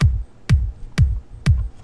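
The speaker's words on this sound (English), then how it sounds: "what we have here is a 4 on the floor kick, which means that there is a kick on every single measure." Four punchy kick drum hits land evenly about half a second apart, each a deep low thump with a sharp click on top, played alone.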